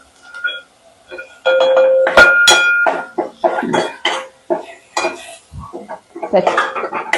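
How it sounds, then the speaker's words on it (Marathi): Kolhapuri onion-garlic ghati masala being sautéed and stirred in oil for a spicy rassa, with irregular metallic clanks and scrapes of a spoon against the pot, bursts of sizzling, and some short ringing tones. "आता हे ह्याला तेल करून चांगलं परतून घ्यायचे"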